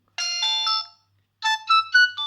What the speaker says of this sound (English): You can also set the message ringtone, fixed ringtones, and then select the message ringtone.